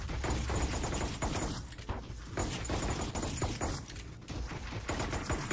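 Enemy gunfire in the VR shooter Sweet Surrender, with dense, continuous rattling volleys and overlapping shots that build into a loud, sustained fusillade across the whole stretch.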